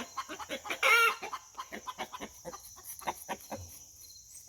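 A rooster clucks steadily to a hen in a backyard flock, a rapid run of short, close clucks with one louder burst of calling near the start, over a constant hum of crickets and insects.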